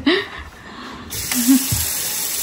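Tap water runs into a sink while a child washes hands at home, a close gushing stream that changes in pitch partway through, with a brief voice sound near the start.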